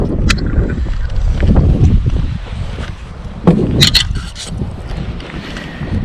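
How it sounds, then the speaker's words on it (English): Wind buffeting a bass fishing boat on a lake during a tournament, rough gusty microphone rumble with water slaps and a few sharp knocks, loud and continuous. "in case you're wondering, the wind's still blowing"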